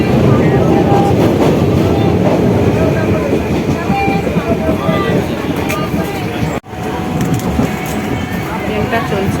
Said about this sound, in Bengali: ট্রেনটা চলছে, দেখো দেখাচ্ছি তোমাদের কাছে।